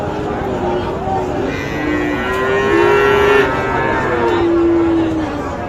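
Sindhi cattle at the Jessore Satmile livestock market give several long, drawn-out moos close by, over a steady background of crowd chatter and voices.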